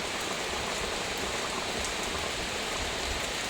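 Heavy afternoon rain pours down steadily as a dense, continuous hiss of drops on surfaces, loud and close, with no voices over it.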